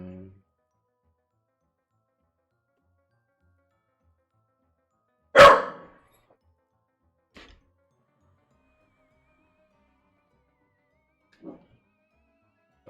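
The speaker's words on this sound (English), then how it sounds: "dog's going a little crazy" A single loud dog bark rings out close by, followed by a couple of faint thumps separated by long stretches of near silence.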